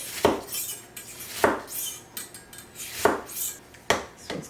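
A kitchen knife slicing down through a small onion on a cutting board, four crisp cuts in an uneven rhythm, each a short sharp crunch against the board, close and clear with no talking.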